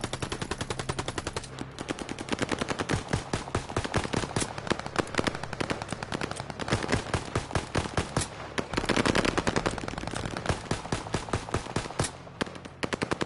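Rapid, continuous gunfire as bullets are emptied against a time limit in a shooting game, dense bursts of loud cracking shots with only brief gaps, no voices.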